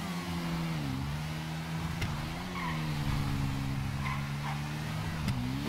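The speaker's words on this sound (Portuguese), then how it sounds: "Essa ponteirinha tá berrando demais." A Yamaha R6 sport motorcycle with a small aftermarket exhaust tip in GTA V gives a steady, loud droning engine note that rises and dips slightly in pitch, running continuously and close throughout, with no talking.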